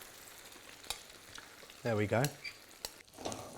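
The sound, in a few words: omelette mixture with feta sizzling in hot frying pan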